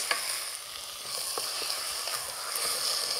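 Beef for a hearty stew frying in a hot pan, a steady close sizzle with the soft scrape of stirring running continuously throughout.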